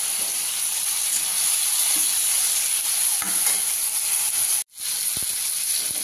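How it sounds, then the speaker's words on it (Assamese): Loud, continuous sizzling and hissing of fish frying in a wok, with a few stirring clatters and a brief cutoff near the end. "এয়া ধুনীয়াকৈ ভাজা হৈ গৈছে"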